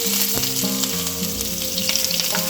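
Onions, green chillies, dried red chillies and curry leaves fry in oil for a bottle gourd curry, a loud close sizzle with sharp crackles and a steady underlying hum, no voices present.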